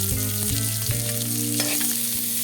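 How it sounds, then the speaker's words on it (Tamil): Chopped onions sauté in a hot pan, a steady loud sizzle with occasional stirring scrapes throughout, no voices. "இப்போ இந்த வெங்காயம் வதக்கிட்டு இருக்கும்போது"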